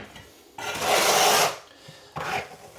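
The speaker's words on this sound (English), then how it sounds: "using the flat side of the trowel, and work it into the plywood" A steel trowel's flat side scrapes thinset mortar into a plywood subfloor during a bathroom floor-warming install, two rough rasping strokes, one long and one shorter, close and fairly loud.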